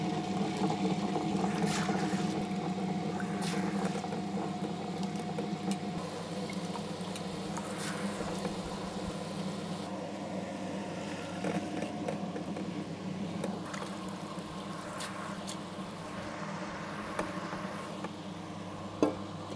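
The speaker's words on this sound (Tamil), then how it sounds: "இதை வந்து கிரைண்டரில் போட்டு ஆட்டிக்கலாம்." Soaked rice churns in a wet grinder as it is ground into smooth batter, a steady close motor hum with a low rumbling drone that continues without a break.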